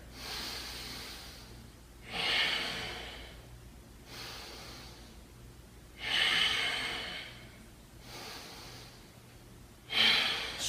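Slow, audible breaths during a standing leg-lift yoga pose in a lower-body workout, three long airy exhales rising and fading at steady intervals, close and fairly quiet with no talking.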